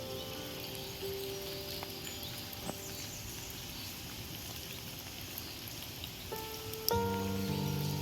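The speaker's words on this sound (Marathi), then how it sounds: "शिवाय पाऊस पण पडतो आहे" Steady rain patters on leaves and surfaces all around in a dense sacred grove of tall trees at Keleshwar, Maharashtra, a soft continuous hiss with occasional distinct drips and faint tonal hums.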